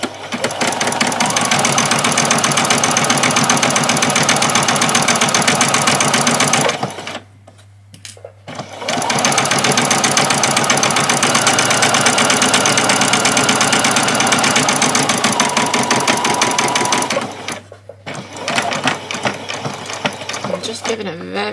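A sewing machine stitches a doll's dress seam in fast, steady mechanical runs, stopping briefly twice for back stitching before starting again, loud and close.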